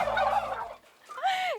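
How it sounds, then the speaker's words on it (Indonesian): A male turkey gobbles in a rapid, warbling burst, followed after a brief lull by a rising, wavering call, close and loud with no talking. "Itu barusan keluar suaranya kalkun."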